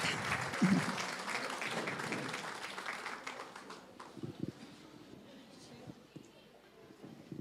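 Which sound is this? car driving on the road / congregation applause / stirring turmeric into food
congregation applause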